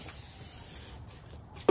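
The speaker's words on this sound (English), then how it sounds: "I'm gonna use some of this spray oil" Spray oil misted over asparagus spears for seasoning: a soft, steady hiss lasting about a second, then a small knock as the can is set down; quiet and close, with no talking.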